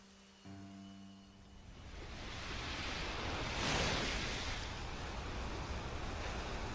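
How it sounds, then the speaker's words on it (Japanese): Sea waves wash ashore at night. Broad surf swells gradually, peaks midway and then holds as a steady roar. A low tonal hum sits underneath at the start. "夜の海はいい。"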